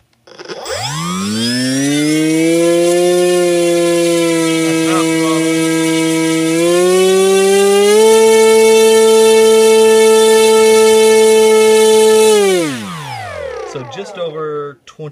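Bix3 brushless motor spinning an 8x4 inch propeller, a loud steady electric whine that rises sharply at spin-up, holds for about twelve seconds with two upward steps in pitch, then winds down.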